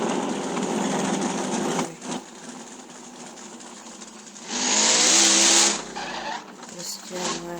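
Fast car in the racing game No Limit 2 roaring and accelerating, with a loud tire skid squeal partway through and someone talking over the engine.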